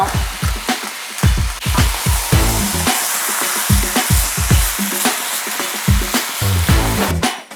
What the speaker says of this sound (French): On va rajouter notre volaille et on va laisser saisir